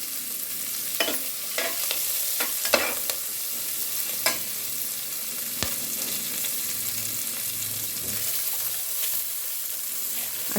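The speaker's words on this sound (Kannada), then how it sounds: "ಅಕ್ಕಿ ಹಾಕಿದ ತಕ್ಷಣ ನಾವು ಒಂದು ನಿಮಿಷ ನಾವು ಫ್ರೈ ಮಾಡಬೇಕಾಗತ್ತೆ ಒಗ್ಗರಣೆಯಲ್ಲಿ" Washed rice being stir-fried with cumin and green chilli in a hot tempering for jeera rice, a steady close sizzle broken by repeated scraping and stirring clatters, with no talking.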